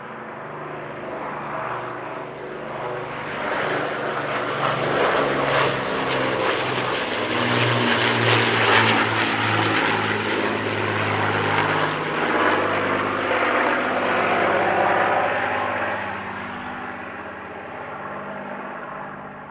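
Avro Lancaster bomber at the East Kirkby airshow 2022, its piston propeller engines droning loudly and steadily through a flying display pass, swelling toward the middle and easing slightly at the end, with no talk over it.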